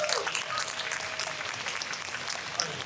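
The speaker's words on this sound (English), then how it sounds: "Round of applause, everyone." Audience applause at a nostalgia fan convention panel in Anaheim, a steady wash of many hands clapping at moderate distance, fairly even throughout with no talk over it.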